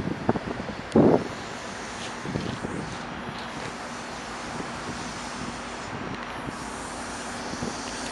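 A CN freight train rolling through Dorval Via Rail station, with a steady distant rumble of rail cars under heavy wind buffeting on the microphone and a brief louder gust near the start.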